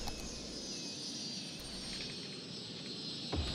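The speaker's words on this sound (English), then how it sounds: "Hey, our first plane." Airplane flying over a city in Cities: Skylines, a steady jet roar with a faint high engine whine held throughout, plus a brief low thump near the end.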